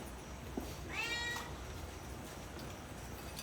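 A cat meows once, a clear rising-and-falling call of about half a second, against steady background noise with no talking.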